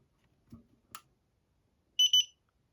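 A couple of faint clicks and taps, then a short, bright electronic double beep near the end, from a HawkHonor handgun safe during a factory reset.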